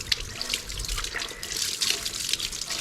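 A tap runs steadily into a sink while a puppy is bathed outdoors in changing weather, a continuous close splashing hiss with small bursts of droplets throughout.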